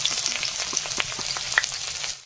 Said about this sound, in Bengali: অ্যাড করব কেটে রাখা পেঁয়াজ রসুন